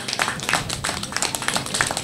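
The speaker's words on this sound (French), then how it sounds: "je vais demander à applaudir Télé Antilles" A crowd claps steadily for Télé Antilles at a community running event, an even patter of many hands at moderate volume with no one talking over it.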